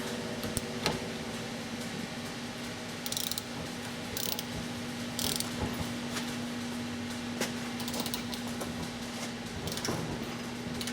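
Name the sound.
socket wrench cracking loose a ball joint nut on an F350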